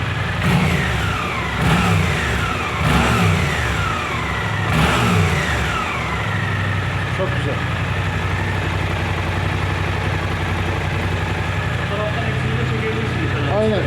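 A Suzuki GSX-8S motorcycle engine revs sharply several times in quick bursts, then settles back to a steady idle, with voices talking faintly underneath.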